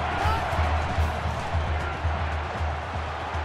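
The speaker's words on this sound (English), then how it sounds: "Really a factor with the crowd noise here." Stadium crowd noise in a college football video game, Oregon vs Washington, a constant dense roar from a large crowd with a low rhythmic thumping underneath, loud and unbroken throughout.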